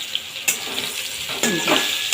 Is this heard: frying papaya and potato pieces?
yes